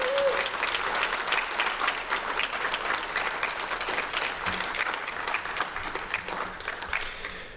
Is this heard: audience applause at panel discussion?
yes